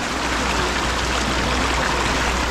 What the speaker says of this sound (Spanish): Y mire qué bonito, ve cómo corre ahí el agua